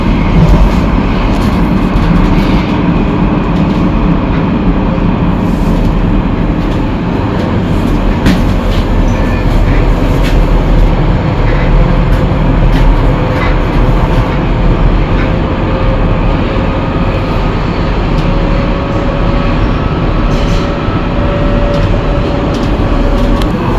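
Rotterdam metro train running at speed past stations where it does not stop, a loud, steady rumble of wheels and motors with rattling and whining tones, heard from inside the car.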